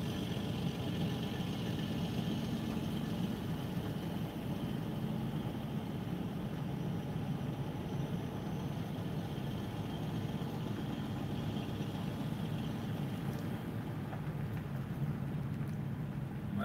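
A truck engine idles as the rig edges around its trailer in a tight bind. The low, even rumble runs steadily throughout at moderate distance, with no voices.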